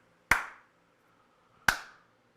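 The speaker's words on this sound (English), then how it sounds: "the slow clap moment" Two single, sharp hand claps spaced well apart in a quiet room, each with a short ringing tail, forming a deliberate slow clap.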